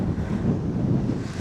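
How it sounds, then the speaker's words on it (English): Strong wind buffets the microphone steadily for the whole stretch, a loud broadband rumble out in open grassland near an old fort. "the wind's pretty strong"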